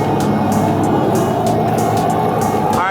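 A car is driven off a trailer at a track, its engine running loud and close as a steady rumble with small throttle changes.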